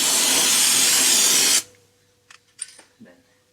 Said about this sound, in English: Spray paint this part.